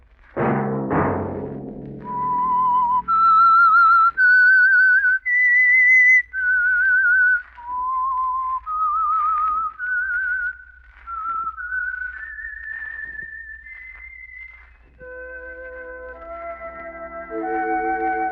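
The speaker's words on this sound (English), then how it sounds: "Let that whistle be your signal for the Signal Oil program, The Whistler" Whistled theme tune of The Whistler radio mystery program, a clear melodic human whistle carrying a slow, eerie line of sustained notes, loud and alone after a brief burst of orchestral music at the start.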